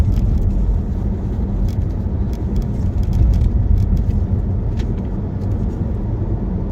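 Steady low engine drone and road rumble from inside a moving car, continuous and fairly loud with no talking.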